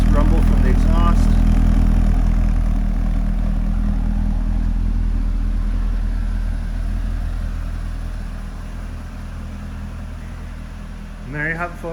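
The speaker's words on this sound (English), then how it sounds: "Nice rumble from the exhaust." A deep, steady exhaust rumble from a 2013 Chevrolet Corvette Grand Sport Convertible, loud at first and easing off over time, with a brief voice near the end.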